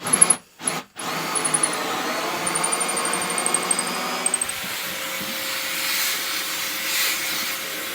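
A high, steady electric whine from a small power drill runs for several seconds. It cuts out briefly near the start, then shifts to a rougher, broader whir.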